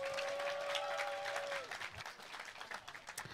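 A crowd applauding loudly with steady clapping, a brief tone fading out partway, then the applause thins into scattered claps.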